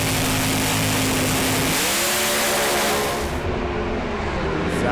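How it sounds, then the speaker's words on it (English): Top Doorslammer drag cars launching at Calder Park Raceway with tyres smoking, a loud continuous engine roar that rises in pitch as the cars pull away, fading slightly at the end. "Tony De Felice smoked the tyres right at the hit of the throttle."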